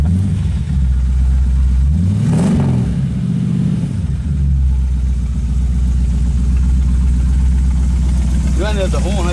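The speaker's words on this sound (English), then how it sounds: "So we need to hear the engine and the exhaust" Ford Victoria hot rod engine and exhaust, a loud rough idle that blips up in a sharp rev and settles back to a deep burbling idle, with voices talking nearby.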